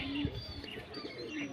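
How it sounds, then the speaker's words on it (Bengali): Kalsera pigeons cooing in a loft, a low throaty coo sounding briefly near the start and again toward the end, faint and close, with light chirps and room noise between. "আর এখানে আছে কিছু কালসেরা পায়রা"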